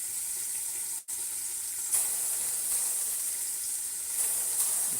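Fish frying in a pan for sarciado, a steady, bright crackling sizzle close by that stays even throughout, with one brief dropout near the start and no speech.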